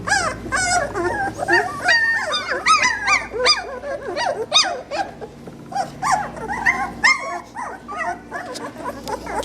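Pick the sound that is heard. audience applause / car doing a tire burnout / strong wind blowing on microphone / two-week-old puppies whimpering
two-week-old puppies whimpering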